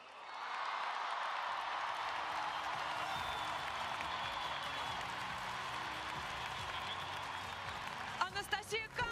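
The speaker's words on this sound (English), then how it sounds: "The crowd has gone wild." A large crowd at the WorldSkills Kazan closing ceremony roars and cheers wildly, a dense, sustained wall of noise that swells in at once and holds loud and steady, with a few sharper shouts near the end.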